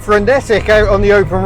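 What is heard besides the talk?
No everyday noises stand out.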